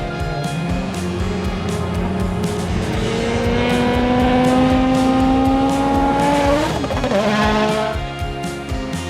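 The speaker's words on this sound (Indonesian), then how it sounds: "ada mobil balap teman-teman" A race car engine, loud and close, rises steadily in pitch through the gears over several seconds with faint tire squeal, then breaks off sharply and fades slightly at the end; no talking.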